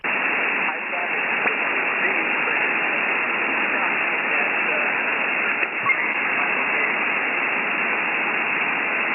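Steady hiss of radio static fills the clip, with a faint, barely intelligible 10-watt SSB voice signal buried in the noise throughout.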